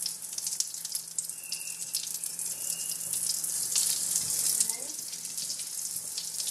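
Tuna cakes sizzle in butter and oil in a hot pan, giving a steady, moderately loud frying hiss throughout that rises slightly in the middle.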